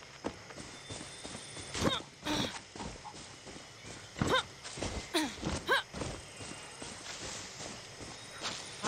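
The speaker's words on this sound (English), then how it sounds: "Naik kuda pagi hari." Horse hooves clip-clop in a steady walking rhythm while riding in the video game Far Cry 6, close and moderately loud, with a few sharper knocks and scattered background game noises.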